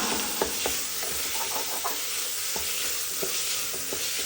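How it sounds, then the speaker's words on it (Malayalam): Sautéed onions and ginger garlic paste are stirred in a hot pan while cooking chicken madhooth: a steady, close sizzle of frying with repeated scrapes and knocks of a spoon against the pan, and no voices. "ഇനി ഇതിലേക്ക് ഇഞ്ചി വെളുത്തുള്ളി പേസ്റ്റ് ആണ് ഇട്ട് കൊടുക്കുന്നത്. ഇതും നന്നായിട്ടൊന്ന് ഇളക്കി യോജിപ്പിച്ചു കൊടുക്കാം."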